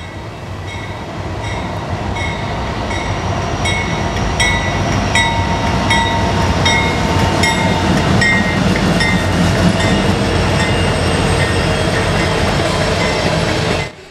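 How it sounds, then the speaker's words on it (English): A freight train made up entirely of grain cars rolls past at close range, its steady rumble and rhythmic wheel clatter holding loud and continuous throughout, with faint metallic squeals over the roar. "The first train at Peck Park had an SD70 Executive Mac trailing third up front. This one was all grain cars"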